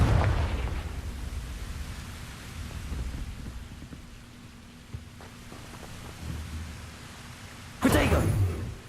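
A Confringo blasting spell bursts in Hogwarts Legacy, with a short, loud explosive crack near the end over a rumbling, noisy game background and earlier softer impacts.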